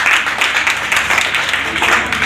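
An audience at a Ramcharitmanas Prachar Samiti Trust foundation day function claps for a guest in a dense, continuous burst of applause, loud and close throughout.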